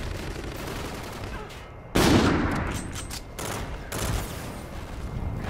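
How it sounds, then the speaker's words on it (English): Pistol gunshots from the Call of Duty: Infinite Warfare video game, with a sharp loud report at about two seconds and further shots after it over steady background game noise. "I shot him in the head like 4 times. This pistol sucks."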